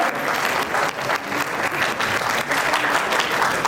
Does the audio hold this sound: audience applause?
yes